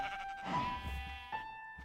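A Minecraft sheep bleats in a long, wavering, nasal cry, then gives a shorter second bleat, close and clear over a faint game background.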